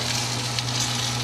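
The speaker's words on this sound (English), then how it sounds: "we got 2 frying pans going. We got eggs," Eggs and fish frying together in two pans for a fisherman's breakfast, giving a steady, dense sizzle with a low hum underneath, close and continuous with no talk.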